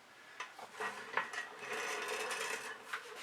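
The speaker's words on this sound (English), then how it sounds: "My turntable is a little noisy." A noisy, low-profile Lazy Susan turntable rotates under a tile on a patio table. It gives a close, faint, continuous rasping rub with small ticks over a few seconds.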